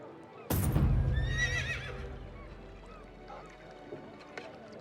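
Horse mount in the MMORPG The Quinfall, summoned with a sudden thump, then a loud, wavering neigh near the start that trails off into quieter rustling and a few faint clicks.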